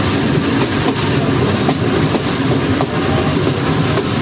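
Loud, close rumble and rhythmic clatter of a passenger train running on a railway track through green countryside, heard from on board with steady wheel noise throughout.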